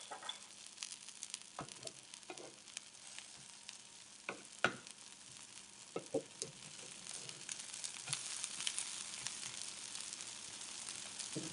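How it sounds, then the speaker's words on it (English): An okonomiyaki, a Japanese savory pancake, fries in oil in a hot pan, giving a soft continuous sizzle with scattered sharper crackles and pops, fairly quiet throughout. "So you can always add more olive oil or oil to the pan. Just fry it a little bit more."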